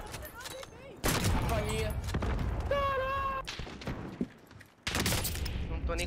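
Sniper and heavy gunfire crackle in a shooter video game, with dense bursts of shots in several loud clusters separated by quieter gaps, and a voice talks between the bursts.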